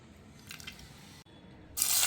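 Cooking oil is poured into a pan for a banana-flower curry, giving a soft trickle and drip that ends in a sudden bright hiss as the oil hits the hot pan.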